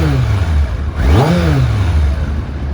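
A 1990 Kawasaki ZZR 1100 C1 motorcycle with carburettors runs close up, idling smoothly, then blipped once into a quick rev that rises and falls back to a steady idle.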